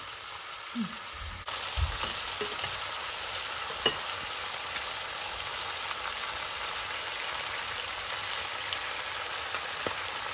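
Oxtail frying in a pot for a Jamaican recipe, a loud, dense, steady sizzle that kicks in after a couple of soft knocks and keeps crackling evenly.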